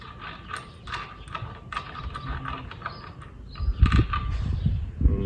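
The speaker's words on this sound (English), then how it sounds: "Now what we gotta do is take this nut off. This is a 15/16 wrench." A 15/16 wrench loosening a nut on a 30 series torque converter, giving close, irregular metallic clicks and scrapes that grow heavier and more knocking toward the end.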